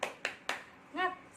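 A teacher leading a classroom tepuk semangat clapping chant in a third-grade microteaching lesson: three sharp, evenly spaced hand claps, then a short sung voice.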